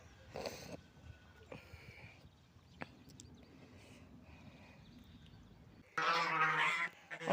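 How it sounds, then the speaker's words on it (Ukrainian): Faint quacks and honks of ducks and geese in a quiet yard, ending with a louder burst of honking close by. "Качки і гуси тут"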